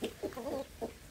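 Bantam hens and a crested hen cluck in short, close bursts, several quick clucks spaced irregularly with a soft chicken murmur between them.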